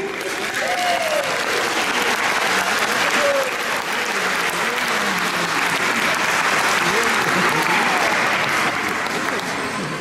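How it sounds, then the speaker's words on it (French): Sustained congregation applause fills a church service after a sermon, a dense, even wash of many hands clapping at steady loudness throughout, with a voice occasionally heard beneath it. "tu peux applaudir"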